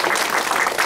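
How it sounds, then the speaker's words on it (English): Brief burst of clapping from a meeting audience, a dense, steady patter lasting under a second with no voices over it. "give a little round of applause."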